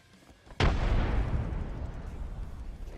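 A frag grenade explodes in a video game, one sudden loud blast after a quiet moment, followed by a long rumbling decay that fades slowly.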